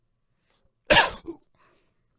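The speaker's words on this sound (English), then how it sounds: "sorry for the cough and throat and stuff" A single sharp cough close by, followed by a smaller second burst, then quiet.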